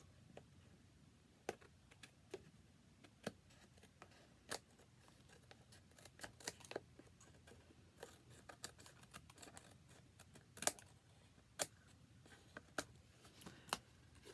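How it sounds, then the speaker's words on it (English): Scissors trim the edge of a paper craft piece, giving scattered sharp snips and clicks at close range over a quiet background, with no talking. "So, and then I just take my scissors,"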